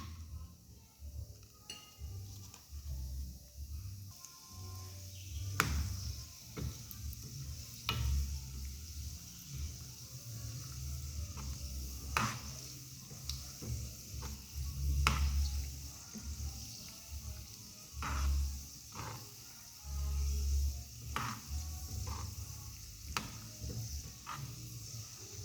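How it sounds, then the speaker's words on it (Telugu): Cashews fry in very hot oil for garlic pakodi, a faint steady sizzle with occasional clinks and stirring sounds over about twenty-five seconds. "సో జీడిపప్పు కూడా వేసుకుందాం."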